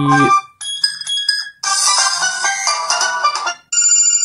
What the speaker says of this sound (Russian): поставлю вам рингтон